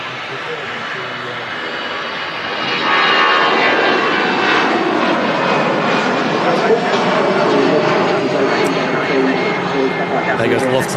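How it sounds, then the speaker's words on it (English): A Lufthansa Airbus A319 jet takes off at Manchester Airport, its engines a steady, broad roar that swells after a couple of seconds and holds, loud from a moderate distance. "There goes the Lufthansa A319."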